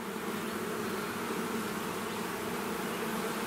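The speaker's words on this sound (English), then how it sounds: "Just a weird looking bee." Honeybees buzz around a beehive frame in a continuous, dense drone, close and steady with no voices over it.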